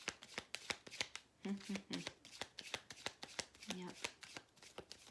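Tarot cards riffle and snap in quick repeated shuffles, close and crisp, with a brief spoken word partway through.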